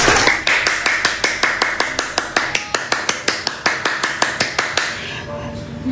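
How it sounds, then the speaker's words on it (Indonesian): A lone person claps their hands about twenty-five times in a steady, fairly quick rhythm at close range, the sharp claps stopping before the end of the clip. "Gue tepuk tangan dulu, guys."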